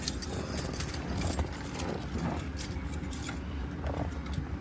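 Keys jangle and clink softly at close range in a few light shakes, with faint background noise.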